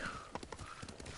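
Horse hooves galloping in Ghost of Tsushima, a quick run of close clip-clop beats over a brief stretch, with no talk.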